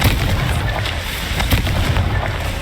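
Confringo blasting spell cast in the Hogwarts Legacy video game, heard as a dense run of booming, crackling bursts and pops that keeps up steadily through the clip.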